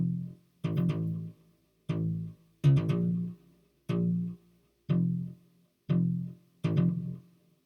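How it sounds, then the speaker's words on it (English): Deep digital bass synth patch built in Alchemy within Logic, playing a simple EDM bass line of eight punchy, evenly spaced notes with a short gap between each, loud and alone. "came up with digital deep bass"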